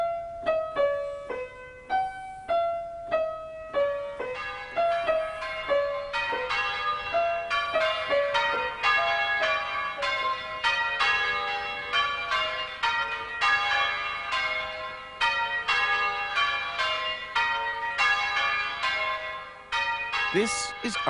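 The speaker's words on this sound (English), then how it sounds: "For years, the ringing of bells has been used to call people to church" Church bells near Snape Maltings and Aldeburgh ring out in a loud, continuous peal, overlapping strikes in quick cascading sequences with long ringing decay, heard clearly alone throughout.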